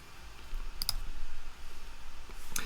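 A computer mouse clicked to advance a presentation slide: a couple of sharp, faint clicks near the start of a quiet room tone, then another single click near the end.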